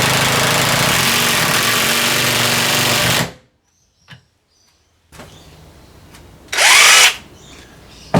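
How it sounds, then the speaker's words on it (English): A repaired battery impact wrench with a cracked housing fixed and its rubber nose piece refitted, running loud and close in a steady whir for about three seconds, then near silence, a quiet hum, and another short loud burst. "the rubber nose piece is refitted and the impact wrench is ready for use."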